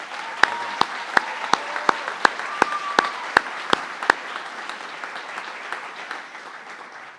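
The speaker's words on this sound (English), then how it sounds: "Big round of applause for these students." An audience applauds students at a Year 13 honours ceremony at Howick College: steady crowd clapping with sharp, regular knocks punctuating the first half, fading gradually toward the end.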